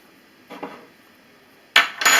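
A spoon clinks against a thick, microwave-safe glass while coffee is prepared, in two short bursts of clattering contact, the second louder and more sustained.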